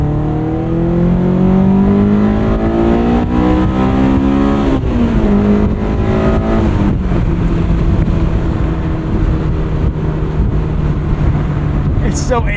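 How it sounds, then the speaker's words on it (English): A Honda S2000 AP1 engine pulls hard, its loud drone rising in pitch as the revs climb, then dipping at a shift and climbing again from inside the car, with talk faintly over it. "It's so angry when it gets into VTEC."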